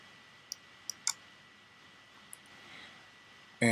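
Several quiet mouse clicks on an OK button in Windows Vista while Lexmark driver updates are installed, three sharp ticks in the first second, one more a little later, then a louder burst at the very end.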